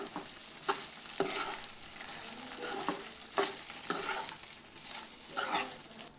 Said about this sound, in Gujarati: પૌવાને આપણે સારી રીતે મિક્સ કરી દઈએ।